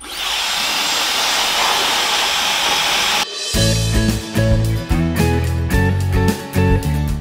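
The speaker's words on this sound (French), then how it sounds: "Donc là, je pressèche grossièrement encore et je passe à mes boucles." A hair dryer blows steadily up close while roughly pre-drying hair, a constant airy roar for about three seconds, then music takes over.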